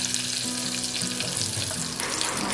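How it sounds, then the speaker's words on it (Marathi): Kokum, curry leaves and turmeric sizzle in hot oil as a tempering for a home-cooked moong dish, giving a steady, close crackling fry with faint stirring and no talking. "आता फोडणी सुरू झाली"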